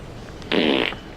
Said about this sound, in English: Who farted?